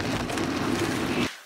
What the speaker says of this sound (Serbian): Danas kiša cijel dan, malo katastrofalno vrijeme